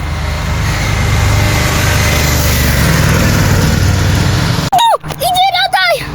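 A steady engine drone runs throughout, close and loud, with a person's voice cutting in briefly near the end.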